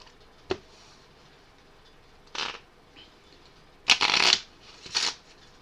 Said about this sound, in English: Then we'll take these 3, shuffle them back into the deck.